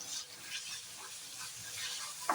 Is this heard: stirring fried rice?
yes